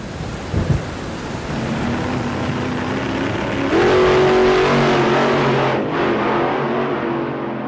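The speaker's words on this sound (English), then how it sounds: "The car then starts up with no one in it." A parked car's engine starts and revs outside during a night thunderstorm, rising over steady rain and distant rumbling thunder, then cuts off.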